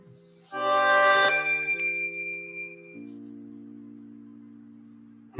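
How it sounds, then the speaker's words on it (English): A phone's notification dings ring out in a quick bright cluster of several chimes, loud and close, then fade into sustained lower tones trailing off. "My phone is going nuts right now."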